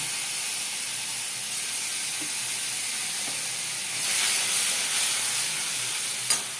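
Half a spoon of garlic fries in hot oil with cumin over a low flame in a pan for a Bengali fish curry, a soft, steady sizzling hiss that swells briefly louder near the end.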